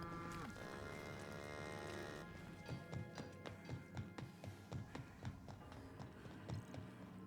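Cows low in The Outer Worlds video game, with a long drawn-out moo at the start, then a rhythmic clip-clop of hooves and shuffling over a quiet game background.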